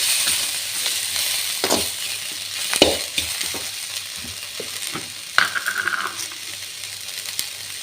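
Coriander and mint leaves fry in a pan for a home-style gravy, giving a steady close sizzle with scattered stirring scrapes and a few sharp clinks of a spoon against the pan.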